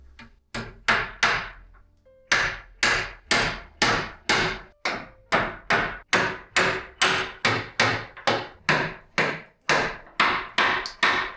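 Steady hammer blows striking nails into an old wooden floor beam, over twenty sharp knocks in a fairly regular rhythm, close by and loud, with no talking.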